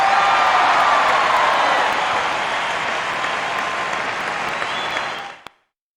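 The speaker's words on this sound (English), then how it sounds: "A round of applause for today's guest!" Crowd applause with light cheering from the Bust a Move 2 dance game fills the scene loudly and steadily, then fades and cuts off near the end.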